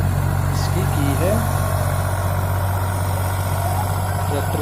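An Eicher 485 tractor engine runs steadily with a deep, rumbling idle-like drone while pulling a 7 ft Fieldking rotavator, loud and close, with faint background sounds over it.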